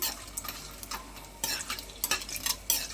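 Dried red chilies frying in hot oil in a pan for a tomato rice tempering, a soft steady sizzle with light scrapes and stirring clinks, quiet and close.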